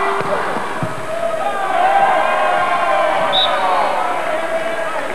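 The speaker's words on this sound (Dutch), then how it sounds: "Het publiek roert zich, merkt dat het Nederlands team terugzakt." A volleyball crowd in an arena stirs and cheers at a Netherlands versus France World League match, a sustained roar that swells slightly, under a commentator's voice.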